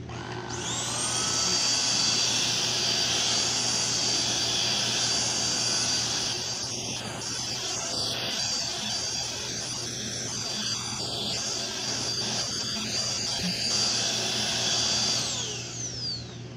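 A Xiaomi Jimmy JV51 handheld vacuum with its turbo brush spinning runs in normal mode, a steady high whine with a whirring motor drone, close and continuous before winding down at the end.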